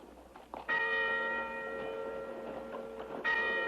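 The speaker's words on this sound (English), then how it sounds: "Church bells? This ain't Sunday." Church bells ring the Angelus at noon in an outdoor Western setting: a bright, resonant tolling heard at moderate distance, with a couple of strikes whose long ringing tones overlap and fade between hits.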